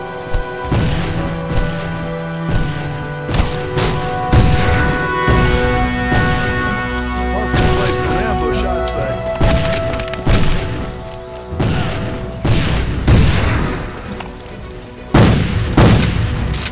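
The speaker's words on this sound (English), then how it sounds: "Soldier, use your cannons to destroy the tower!" Repeated heavy cannon booms and crashing impacts from a Civil War battle video game set at Chancellorsville, firing in loud irregular bursts over a steady layer of battle noise and music.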